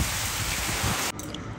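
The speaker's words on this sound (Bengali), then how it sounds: "দেখুন কিভাবে ঝড় বৃষ্টি হচ্ছে এই ঠান্ডার" Heavy rain lashes down in a cold windstorm, a dense, steady roar of downpour close by that drops abruptly to a lighter patter near the end.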